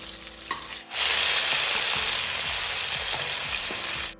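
Fish pieces half-fried in hot oil in a home kitchen, giving a loud, steady sizzle and crackle that starts abruptly and runs on evenly, with faint stirring and scraping sounds beneath.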